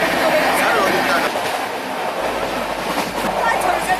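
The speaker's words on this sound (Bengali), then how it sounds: "ট্রেন তার গতিতে আমাদেরকে এগিয়ে নিয়ে চলেছে।" A moving passenger train on a tour through Jammu and Kashmir, with a steady rolling rumble and rattle heard from inside the carriage throughout.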